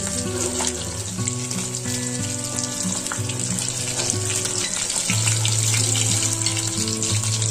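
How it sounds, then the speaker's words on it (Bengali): Small puti fish fry in hot oil with a steady, loud sizzle and a crackling spatter that continues without a break throughout. "মাছগুলো ভাজা হয়ে যাচ্ছে"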